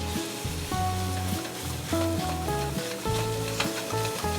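Flour and nutmeg are whisked with a rubber-tined whisk into a pan for mac and cheese, a continuous close sizzle and scraping stir heard beneath background music.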